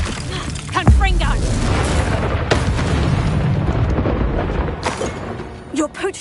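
A Confringo spell explodes in the Hogwarts Legacy video game as one deep, sharp boom near the start, followed by a rumbling, crackling tail and scattered game effects.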